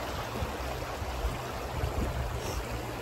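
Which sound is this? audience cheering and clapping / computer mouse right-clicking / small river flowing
small river flowing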